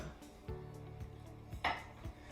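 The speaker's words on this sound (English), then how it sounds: "So you see how I cut the lemon on the side of the lemon, not straight down the middle because I don't have any seeds" A knife cutting a lemon on a board, several soft, evenly spaced taps with a brighter scrape partway through, quiet and close with no talking.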